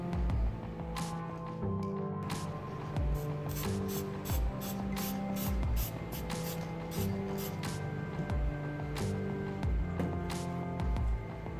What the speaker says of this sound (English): Going to spray a little bit of chrome on the front grill.